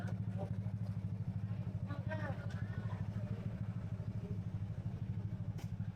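A motorcycle engine idles close by with a steady, rapid throbbing putter, while a person speaks faintly over it.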